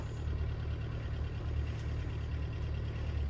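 Small tractor idling inside a covered greenhouse while spreading pelleted manure, a steady low engine drone held at an even level throughout, fairly faint and without any voices.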